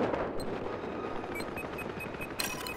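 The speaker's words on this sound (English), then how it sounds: "Have eyes on hostile machine gun just south of your location." Machine gun fire in the shooter game Battlefield 4 on the Golmud Railway map, a dense continuous rattle of automatic gunfire with sharp bursts, loud and steady throughout, rising at the end.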